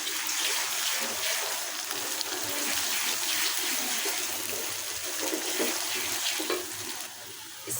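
Ginger garlic paste fries in a pan with a dense, continuous sizzle and hiss close by, its loudness steady throughout.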